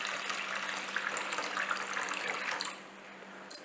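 Water pours steadily from a tap over rinsed moong dal to soak it, a continuous close splashing gush that eases slightly near the end.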